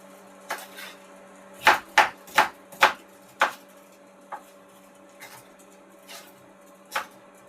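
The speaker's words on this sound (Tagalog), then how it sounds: "and then we slice our ingredients" A knife slicing cooking ingredients on a board in a small home kitchen, a handful of crisp, separate cuts, some in a quick run of four, others spaced out, over a faint steady hum.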